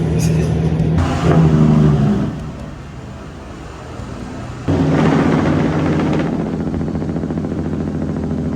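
Truck engine brakes rumble and echo inside a tunnel in Southern Alberta, with loud booming bursts of engine braking that swell, drop off and return, reverberating off the tunnel walls.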